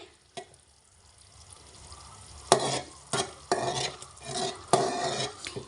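A honey mixture is stirred while it cooks in a pan: several loud scraping strokes come in an uneven rhythm over a soft, steady sizzle, close up and with no voices.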